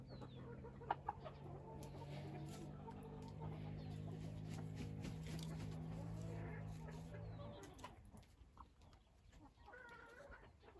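Hens cluck and murmur in a main egg coop, a continuous soft chatter with a few sharper calls. It thins out toward the end.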